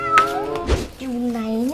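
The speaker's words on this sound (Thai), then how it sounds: "เสียงลูกแมวดังมาจากแถวๆนี้นี่แหละ" A kitten meows in short, rising cries, fairly close, with a voice talking around the calls.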